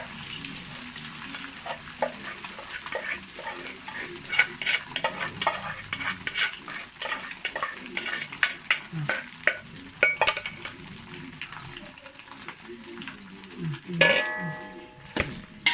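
Rice being stirred and scraped for anchovy fried rice in a hot pan with a steady sizzle, the spatula clattering against the metal in quick, uneven strokes, close by.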